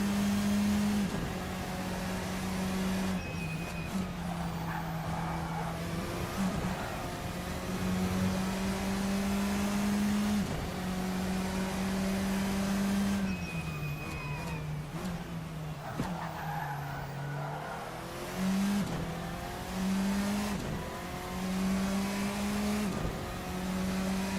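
Simulated F4 race car engine at Donington in Assetto Corsa, a steady droning buzz that rises and falls with gear changes and throttle lifts, with brief tyre skids, continuous and loud for the whole stretch.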